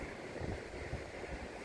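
Wind blowing outdoors in the Var region, a constant low rumbling gust against the microphone, fairly faint and steady with no talking.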